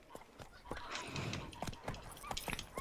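Horse galloping in the video game The Witcher 3, quick clip-clop hoofbeats in an irregular running rhythm, fairly quiet and near, with a murmur of game ambience around them.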